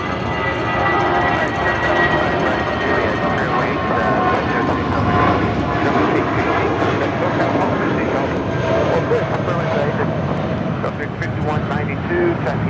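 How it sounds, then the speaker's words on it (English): Spirit Airlines Airbus A320 departing Los Angeles International Airport, a loud continuous roar of jet engines rumbling steadily, heard from a distance. "That is Spirit 816 departing to Kansas City on an A320"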